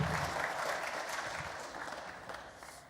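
Sparse applause from a small handful of people at a UFC 243 press conference, thin and scattered, fading out over a few seconds.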